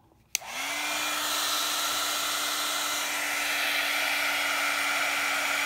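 A hair dryer switches on with a click and runs at a steady whirring hum, drying a decoupage junk journal page up close, constant and loud without interruption.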